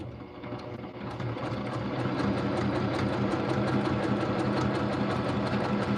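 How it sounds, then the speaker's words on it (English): A sewing machine runs continuously nearby, its rapid mechanical stitching rhythm steady and fairly loud after a slightly quieter start. "let me know if the sewing machine is too loud."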